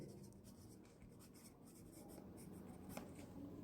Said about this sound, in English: I am writing my name